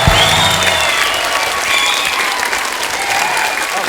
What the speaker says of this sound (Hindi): कृष्णा के लिए जोरदार तालियां।